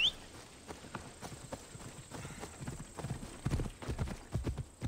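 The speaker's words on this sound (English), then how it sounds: "Need the horse to go faster." Horse hooves clip-clopping at a steady trot-to-gallop rhythm in the Assassin's Creed Odyssey video game, close and fairly loud, with a brief whinny near the start.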